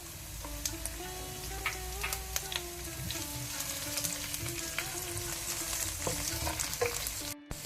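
Garlic and ginger frying in hot oil in a pan for Mangalore-style pork pepper fry, with a steady broadband sizzle and intermittent stirring clicks and scrapes throughout, close and moderately loud, no talking.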